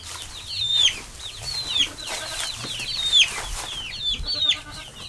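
Chickens cluck and chirp close by, with repeated short calls rising and falling over quiet background noise.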